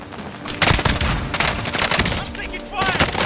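Rapid assault rifle fire in the battle royale game Warzone rattles in loud, dense bursts, joined by other shots nearby, while players talk over it.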